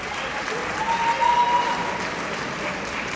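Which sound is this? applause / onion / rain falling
applause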